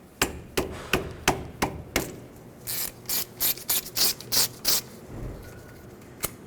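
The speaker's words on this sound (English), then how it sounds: "Let's remove this bolt so we can free this bracket up and get more slack on the hose. Once again, 10mm socket." Ratchet with a 10mm socket backing out the caliper hose bracket bolt on a 2009-2014 Ford F-150, heard as several sharp clicks followed by a close run of quick rasping ratchet strokes, with no talk.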